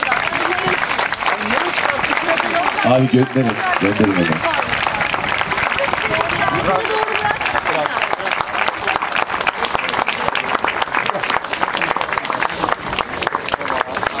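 A theatre audience at Eskişehir City Theatre bursts into sustained applause that fills the room steadily from start to finish, with a voice speaking briefly over the clapping.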